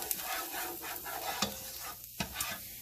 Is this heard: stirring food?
yes